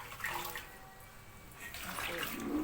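Water sloshing and splashing as a barrel is emptied and rinsed out after scrubbing, moderately loud, with faint voices in the background.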